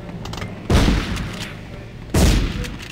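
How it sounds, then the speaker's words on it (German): Two heavy, booming hand grenade explosions in the video game Medal of Honor, each a sudden loud blast with a rumbling decay, spaced more than a second apart over low background noise. "Ich hab eben eine Handgranate gehört."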